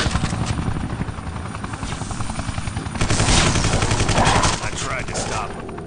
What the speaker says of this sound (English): I destroyed their village with the chopper